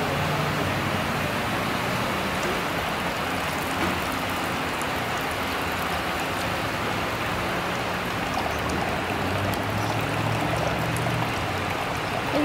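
Water splashes steadily at an outdoor fountain, a continuous dense hiss and patter that stays even and fairly loud throughout, with no clear voices.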